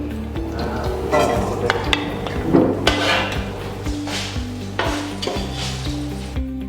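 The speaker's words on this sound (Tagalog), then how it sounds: "ngayon ilalagay ko na ang raisins niya sa sibuyas. Imimix ko na ha." Raisins stirred into fried onions in a pan for Biryani de Maguindanao, with a steady loud sizzle and repeated scraping and clinking of a spoon against the pan, close up and with no talk.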